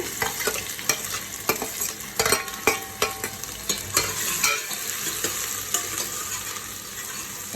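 Chopped ginger and garlic fry in hot oil with cumin and whole chillies, a continuous close sizzle broken by repeated sharp scrapes and clicks of a spatula stirring the pan, with no talking.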